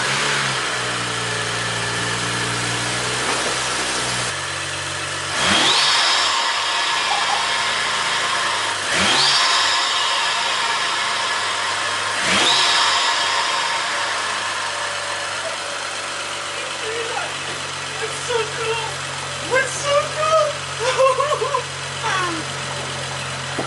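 A BMW E92/E93 with a BMS intake installed cranks and fires up, then settles into idle with several sharp throttle blips and revs, close and loud, with faint voices and clicks toward the end.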